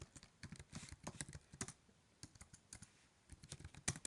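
Fast, steady typing on a computer keyboard: dense, close key clicks in quick bursts with short pauses, faint overall and with no voices.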